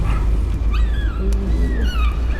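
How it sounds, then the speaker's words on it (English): Dogs heard faintly through a headset whimper and give thin, rising yips, a few short whining cries over a low steady hum. "Can you hear the dogs through my headset?"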